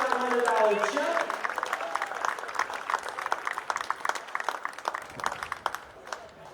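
Audience applause at a polo club award presentation, dense clapping with crowd voices mixed in, starting full and gradually thinning out over several seconds.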